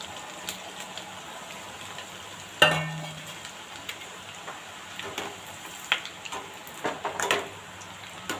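Pieces of dough dropped into hot oil for deep-frying a crisp Tamil snack: a sharp splash-onset hiss, then a steady bubbling sizzle with scattered pops and stirring clicks, no voices.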